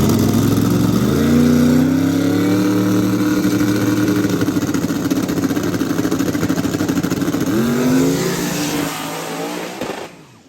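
A drag racing car makes a run down the strip, its engine a loud, sustained roar that rises in pitch through the gears before fading away into the distance at the end.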